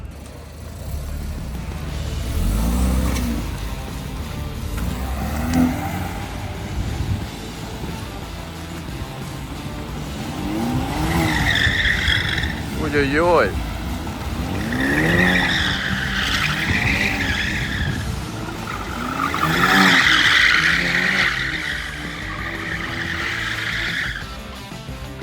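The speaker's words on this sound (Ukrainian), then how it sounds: "Зараз буде дрифт" A car, a BMW F30, drifts with tires skidding and squealing in long wavering bursts over engine noise, during heavy rain; a voice briefly exclaims.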